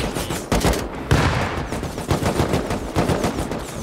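Gunfire in the video game Rust, with rapid bursts and single shots from AK and LR rifles in a clan base fight, loud and close in quick irregular volleys filling the clip.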